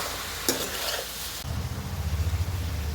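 Bottle gourd stew is stirred in a pot, a spoon scraping and sloshing through the simmering contents with a low bubbling sizzle underneath, close and continuous.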